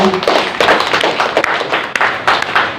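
A church congregation claps together during a Filipino preaching service, a steady, loud patter of many hands with a voice faintly underneath.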